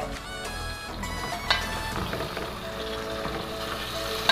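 Blended tomato and garlic fry in a pan with a steady, close sizzle and crackle, punctuated by a couple of sharp clinks of a utensil.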